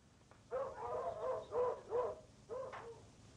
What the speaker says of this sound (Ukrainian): Чому гавкають собаки?